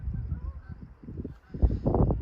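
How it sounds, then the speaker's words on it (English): Geese honking on a summer night on Prince Edward Island, a flock of irregular nasal calls close by that grows louder and denser toward the end. "listening to the geese"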